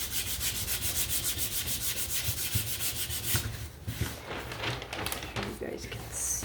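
Sandpaper rubs back and forth over a painted pumpkin craft, a rapid regular scratching rhythm close by that later turns irregular, with a voice briefly audible.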